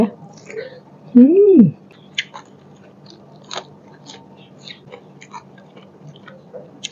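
Someone chews a mouthful of cha-om up close, with soft wet crunching bites and mouth noises, and a short voiced sound early on.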